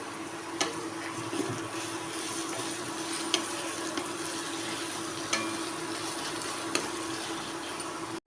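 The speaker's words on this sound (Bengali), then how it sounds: "পেঁয়াজটা গোল্ডেন ব্রাউন হওয়া পর্যন্ত ভেজে নেব" Sliced onions fry in a pan with a pinch of salt for a home-style chicken curry, giving a steady close sizzle with a few sharp clicks of stirring against the pan.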